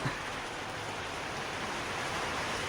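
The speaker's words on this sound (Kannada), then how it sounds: "ಮಳೆ ಬರ್ತದೆ." Soft, even patter of rain falling, a quiet uniform wash of noise throughout with nothing else standing out.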